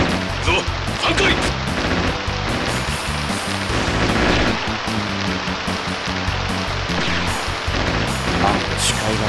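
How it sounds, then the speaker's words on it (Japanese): Steady heavy rain hisses through a PS1 combat mission in Project Horned Owl, a dense continuous wash under looping music and scattered game effects. "お前の周りだけ雨が蒸発してるぜ"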